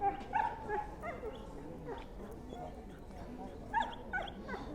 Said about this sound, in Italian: finché il cane abbaia e li sveglia